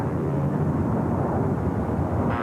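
A Uruguayan Air Force airplane drones steadily in flight, a dense, even engine roar at moderate level with no talk over it.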